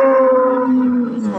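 A Friesian cow at a cattle market gives one long, loud, close moo lasting the whole moment, steady and drawn out before trailing off at the end.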